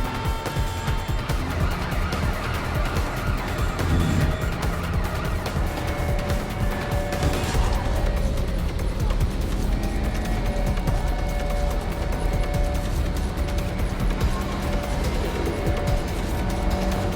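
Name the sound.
car chase and ramming in the video game Watch Dogs Legion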